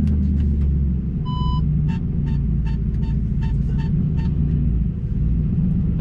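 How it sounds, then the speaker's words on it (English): A 2009 Audi R8 V8 convertible driving in cold weather gives a loud, steady low engine rumble throughout. It sits close, with a few brief beeps and clicks above it. "This car is really loud."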